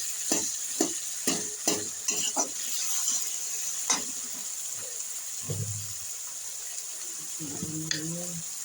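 Tomatoes cooking in a pan while making whole wheat chowmein, with a steady low sizzle under scattered scraping stir strokes and a few louder clanks, then a short burst of bubbling near the end.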